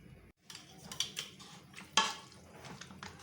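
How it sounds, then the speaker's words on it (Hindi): Cooked mustard greens (saag) being worked with a masher in a pot, giving soft wet squelches and a few sharp metallic clinks at irregular intervals, close and fairly quiet. "मैशर के साथ मैश कर रही हूँ मैं, और बहुत अच्छा सा मैश हो रहा है।"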